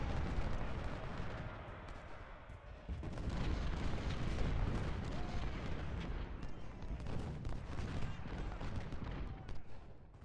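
Artillery in the Civil War video game Ultimate General: Civil War fires in a continuous barrage of deep booms and rumbling volleys, overlapping with crackling gunfire, loud and dense throughout with no clear pauses.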